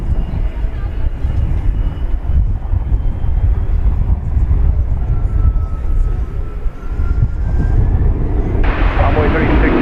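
Envoy airliner taking off from runway 18 left at DFW Airport, a loud, continuous low roar of jet engines swelling and rumbling throughout, with voices faintly present beneath it.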